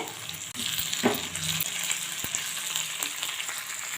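Garlic, cinnamon, cloves and spices sizzle and fry in a pan for chicken curry, a steady close crackle with occasional stirring clinks and scrapes, no talking.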